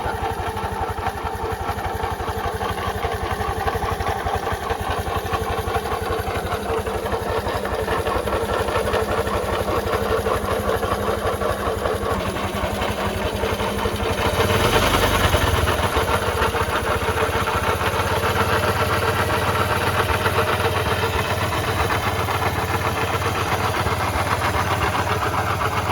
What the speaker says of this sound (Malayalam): നമ്മൾ നമ്മുടെ വണ്ടിയുടെ എൻജിൻ ഒന്ന് സ്റ്റാർട്ട് ആക്കിയിട്ടുണ്ട്. ഈ വണ്ടിയുടെ പ്രശ്നം ഇതാണ്, ഇതിൻ്റെ ബെയറിങ് പോയതാണ്